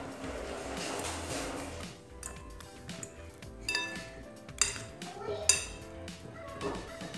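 Grated coconut gets stirred into fried dough balls in a pan, with utensils scraping and clinking against the pan intermittently while someone talks.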